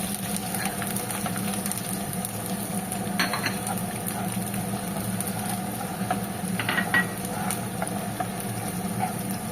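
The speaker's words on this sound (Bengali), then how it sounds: "এটাকে এবার একটু হালকা লাল করে ভেজে নেব রসুনগুলো।" Chopped garlic fries in a pan, cooking until lightly reddened, giving a steady, even sizzle that runs throughout with a few faint clinks of utensil against the pan.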